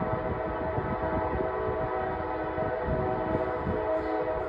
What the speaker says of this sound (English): I know that train is loud.